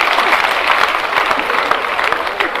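An audience at a national housing program event in Bomas claps in a dense, sustained burst of applause, crowd hands pattering steadily and loudly throughout with a faint murmur of voices underneath.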